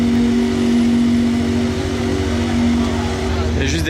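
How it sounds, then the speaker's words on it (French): Ferrari supercar in race mode with its engine held at raised revs, a loud, steady, throaty drone with a strong low tone, recorded close by at a Ferrari convoy; no clear voice is audible. "le régime moteur a augmenté, elle fait plus de bruit"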